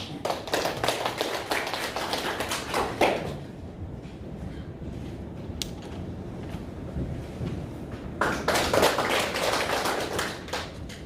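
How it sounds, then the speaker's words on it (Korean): An audience in a third-floor auditorium at a memorial academic conference claps in two bursts, a steady round at the start and another near the end, with a quieter lull between. "여러분 힘찬 박수 부탁드리겠습니다"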